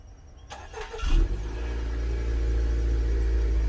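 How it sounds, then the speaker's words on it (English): A Honda Accord's engine cranks briefly and catches, then settles into a steady, close idle rumble. "Let me turn the car on."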